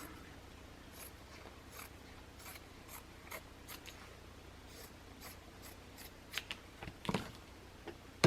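Scissors trimming fabric for a cross-stitch finish, a run of quiet, regular snips and rustles close by, with a few louder clicks near the end and no talk.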